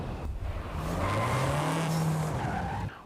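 In the racing game Forza Horizon 5, a Vuhl 05RR supercar drives and skids, tires squealing loudly in a sustained slide over engine noise before cutting off abruptly.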